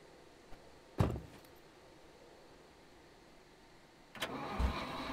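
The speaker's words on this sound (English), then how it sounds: "You can get in the car, but it doesn't start automatically" A car engine in the game Scum cranks over with a short burst near the start, then after a quiet pause turns over again and catches toward the end, fairly close and with no talking.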